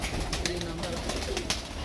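Pigeons in a large flock of several hundred birds coo softly in low repeated murmurs, with faint voices and rustling mixed in.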